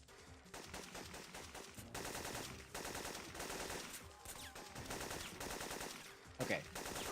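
Rapid gunfire from a first-person shooter video game, dense bursts of shots rattling almost continuously at steady loudness with brief gaps between volleys.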